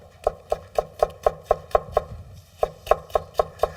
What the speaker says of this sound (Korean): 오이, 어슷 썰어서 채 썰어 주실 거예요